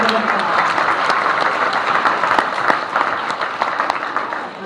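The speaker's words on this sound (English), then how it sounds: "let's give a round of applause." An audience at an awards ceremony claps steadily for several seconds, a dense, loud, even wash of applause with no break.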